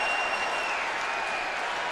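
Football stadium crowd at a Green Bay Packers versus Chicago Bears game roaring loudly and steadily, a dense sustained wall of cheering with no break.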